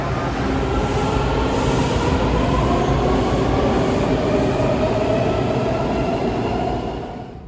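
A Washington Metro Red Line train at Friendship Heights station gives a loud, steady rumble of wheels and motors that holds throughout and eases off at the very end, with no talking.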